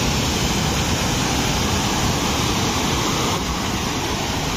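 Floodwater rushes loudly and continuously through a drain brimming after heavy rain, a dense, unbroken roar with no pauses.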